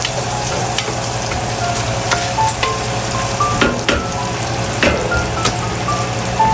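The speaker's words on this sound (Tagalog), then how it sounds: "Gisa-gisa ng bawang at sibuyas." Garlic and onion sautéing in a pan for binagoongang baboy, a steady loud sizzle with occasional stirring scrapes and clinks throughout, no talking.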